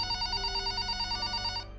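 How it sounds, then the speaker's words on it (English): A telephone rings at night with a steady electronic warble that repeats in quick pulses, loud and close, then cuts off abruptly near the end. "my phone begins to ring"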